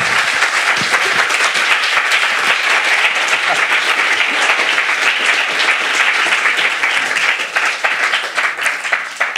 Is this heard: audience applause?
yes